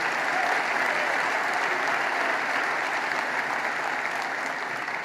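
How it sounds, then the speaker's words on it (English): A large crowd at a Trump speech applauds continuously, dense sustained clapping that holds at full strength for the whole stretch with no voices over it. "They were applauding you on the job"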